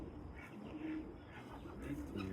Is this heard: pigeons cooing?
yes